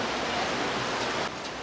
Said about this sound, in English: Another waterfall further down.